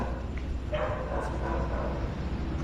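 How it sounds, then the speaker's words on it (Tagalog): Dogs bark near and loud inside an abandoned cockfighting arena, a few quick yips and barks over a heavy, constant low rumble of background noise. "Kumakahol yung aso."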